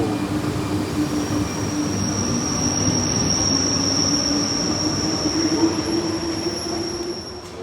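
A Paris RER B single-deck commuter train rolling through a station, with a loud steady rumble, a sustained high wheel squeal and a faint hum close by, and no talking over it.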